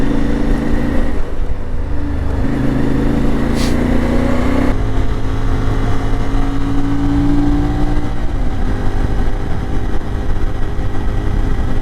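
IBEX 450 motorcycle on stock gearing cruising at highway speed, a loud steady engine drone with wind rush, rising and settling in pitch over about twelve seconds; no talking.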